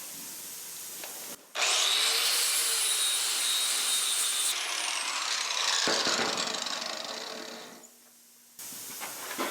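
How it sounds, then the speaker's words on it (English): A 60 grit flap disc grinds the corners of a metal bar, making a loud, steady, hissing abrasive whine that runs for several seconds, changes tone as pressure shifts, then winds down before the grinder starts again. "we're just going to finish all four corners with the flap disc."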